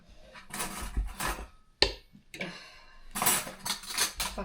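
Spoon and fork clinking against a bowl while eating ramen in a kitchen, a run of close, bright metallic scrapes and taps in bursts with a short pause midway.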